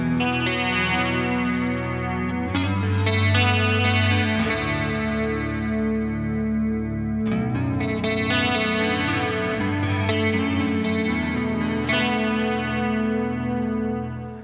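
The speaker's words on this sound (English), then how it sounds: "So as you heard, this riff had a very deep but slow chorus" Electric guitar riff played through a NAOMI Classic analog chorus pedal set to full depth and slow rate, with lush, wavering chorus tone on sustained chords and notes, loud and continuous for the whole stretch, no voices.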